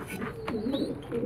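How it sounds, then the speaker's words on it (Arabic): A large pigeon gives a soft, low cooing call close by, steady and fairly quiet, over light background noise. "جبنا الحمامة الكبيرة دي"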